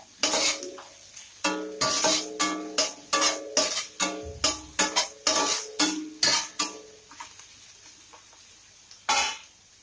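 Green chilies and tomato with salt being sautéed in a pan, a quick run of rhythmic metal spatula scrapes and clanks over a light sizzle, then a pause and one final knock, close and without speech.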